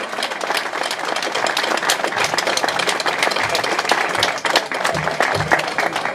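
An audience at a hometown gathering and book launch in Kalná Roztoka claps for a president. The applause is dense and steady and fills the room for several seconds, with low murmurs underneath.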